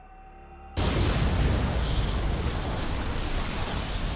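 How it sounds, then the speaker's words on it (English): An explosion in the video game Code Vein 2 bursts in suddenly after a quiet moment, a loud booming blast that rolls on into a sustained roaring rumble. "It's an explosion."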